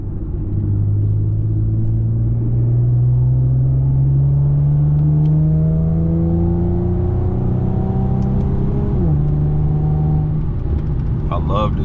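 An Infiniti G37 accelerates on a backroad with a steady, loud engine drone that climbs in pitch through the gears, with one shift near the end and constant road rumble underneath.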